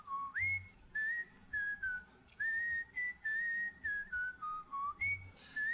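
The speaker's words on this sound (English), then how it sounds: "and the whistling." A person whistles a bouncy melody as part of a recorded pop-rock song, the notes clear and close in short phrased bursts with brief gaps, alone and without talking.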